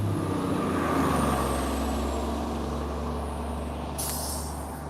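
TTC city bus 8067 on route 73C idling at a stop, a steady low engine rumble throughout, then a sharp hiss of air brakes near the end.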